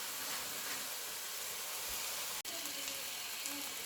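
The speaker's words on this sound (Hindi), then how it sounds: "मैं इसको दूंगी 5 to 7 मिनट्स कि ये अच्छे तरीके के साथ ऑयल में फ्राई हो जाए" Garlic, ginger and spices frying in oil for a chicken and potato curry, a steady close sizzle and hiss running throughout with one brief dropout partway.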